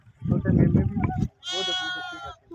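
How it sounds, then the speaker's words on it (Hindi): Goats and young goat kids bleating close by on a rural farm, a person talking first and then a long wavering bleat. "देखिए गाइस इन्होंने अब बकरी के बच्चे पकड़ लिए"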